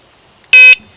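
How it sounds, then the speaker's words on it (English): A dog training beeper collar gives a single sharp, loud electronic beep lasting about a quarter second, close to the microphone against a quiet background. "Now if they stop, go on point, it's going to beep faster every 2 seconds."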